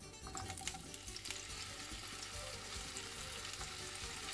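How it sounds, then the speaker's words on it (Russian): Sausages fry in vegetable oil in a pan for a Greek spetsofai dish, giving a steady, close sizzle with crackling pops throughout and no talking. "И поджариваем колбаски с обеих сторон."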